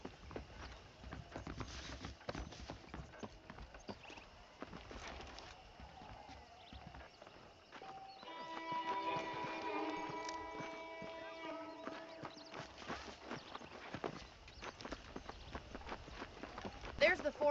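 Rhythmic hoofbeats clip-clopping at a steady trot, with game music and ambient sounds around them and voices talking over parts of it.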